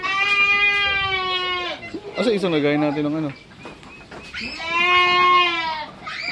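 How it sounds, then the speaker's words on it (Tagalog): Goats raised on a farm bleat loudly in long, wavering calls, one early, a shakier one in the middle and another near the end, while a person speaks briefly between them. "So, sasaksak po muna kami ng mga kambing."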